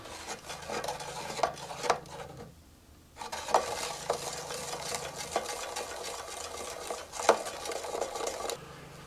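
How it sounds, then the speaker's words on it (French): Soap bubble liquid mixture being stirred in a container, a steady scraping, swishing rasp with repeated sharper knocks, near and fairly quiet, with a short pause partway through. "Et on mélange pendant au moins 10 minutes."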